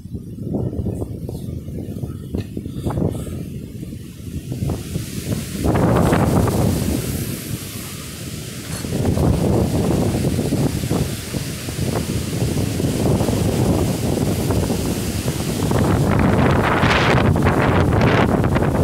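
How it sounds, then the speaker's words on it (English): Strong gusts of around 50 mph batter a microphone near trees, a loud roaring buffeting wind that surges and swells in waves across the whole stretch, with no talking. "50 mile an hour wind gust."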